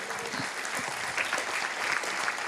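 An audience at a Telugu sermon claps for God's name, a brisk continuous patter of many hands close by, steady and fairly loud throughout.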